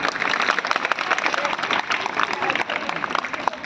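Audience clapping at a school children's craft fair, a dense, steady patter of many hands kept up throughout with some voices mixed in.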